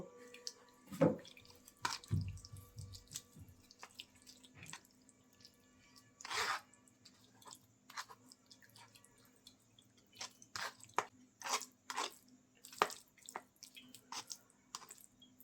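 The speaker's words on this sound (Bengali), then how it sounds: "চেপে চেপে আমি টমেটোর সম্পূর্ণ নির্যাসটা নিয়ে নেব" Cooked, charred tomatoes are squeezed by hand to press out their juice, giving sparse wet squelches and drips with quiet pauses between. Close and fairly soft, with no talking.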